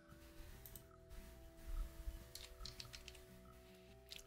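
Keys on a computer keyboard click faintly as a command is typed in, a soft irregular run of taps over a low steady background hum.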